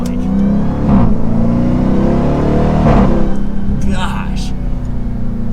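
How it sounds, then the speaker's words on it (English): A 2023 Dodge Durango SRT Hellcat AWD pulling hard under acceleration, its deep engine roar steady and loud with brief surges at gear changes, heard alongside a voice talking. "Something about third to fourth gear, just that is like the sweet spot when you shift in this thing."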